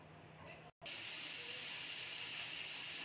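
Grated coconut dry-roasts in a pan with a steady broadband hiss and sizzle that briefly cuts out, then continues evenly, with a voice speaking over it.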